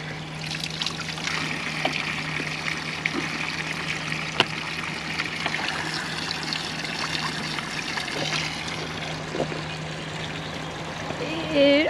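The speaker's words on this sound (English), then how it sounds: "this is natural spring water that's drinkable, and it just keeps pouring out." Natural spring water pours and trickles steadily near Glacier National Park, a soft continuous splash with a faint low hum in the background.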